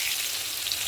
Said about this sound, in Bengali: এবার আমি এই ওল সিদ্ধটা তেলের মধ্যে দিয়ে দেবো